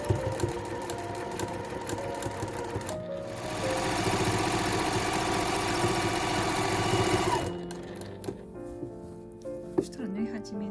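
A sewing machine stitches the hem of lounge pants, a steady fast mechanical whir that runs loud for several seconds in the middle, with lighter motor hum and small clicks before and after.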